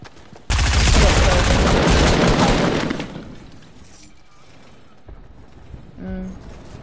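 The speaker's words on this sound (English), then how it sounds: "No, that wasn't even a drum gun, that was an SMG" Loud, dense burst of SMG gunfire in Fortnite, sustained rapid shots for about two and a half seconds, then fading into quieter rattles and faint voices.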